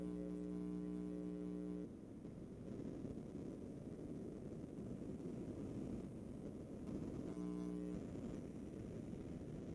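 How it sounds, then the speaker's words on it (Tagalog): An electric fan hums quietly and steadily in a room, a soft broadband whir with a low droning tone that briefly drops and returns. "Yung electric fan."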